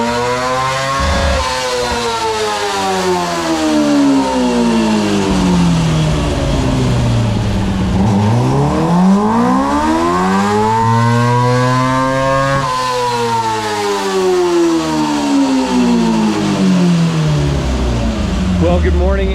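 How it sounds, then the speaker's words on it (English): A restricted race car engine on a dyno revs repeatedly, its pitch climbing and falling in long sweeps. It is loud and close, sustained throughout with no pauses. "start with the restricted car and run this on the dyno, see if we can't get a few more horsepower out of it"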